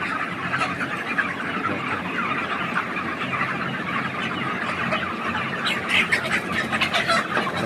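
A crowd of chickens on a large poultry farm clucking and squawking together in a continuous busy din, with some sharper calls standing out near the end.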